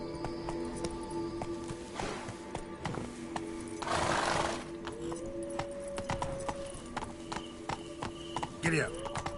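Geralt's horse Roach galloping in The Witcher 3, a rapid steady clip-clop of hooves mixed with game ambience and music, while voices talk over it and a short whooshing burst rises midway.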